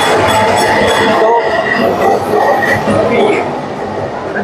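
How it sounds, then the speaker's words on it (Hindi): Metro tram passing by on a street in Kolkata, a loud rumbling roll with rattling and a brief high wheel squeal, fading slightly toward the end while a voice talks over it. "अभी सामने से मेट्रो ट्राम जा रहा है तो थोड़ा आवाज़ हो गया था।"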